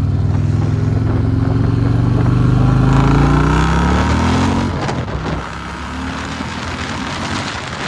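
Harley-Davidson Road King CVO, a previously wrecked bike, rumbles steadily on its first ride, its engine note rising and falling with throttle while wind noise rushes loudly over the whole pass.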